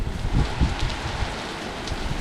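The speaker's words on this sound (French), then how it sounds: "Tellement il pleut fort, tellement la pluie est forte." Heavy rain pouring down in a severe thunderstorm, a brief, steady wash of close rainfall hiss with soft low thuds of drops.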